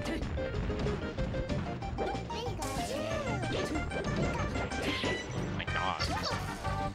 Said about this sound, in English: Three down smashes in a row.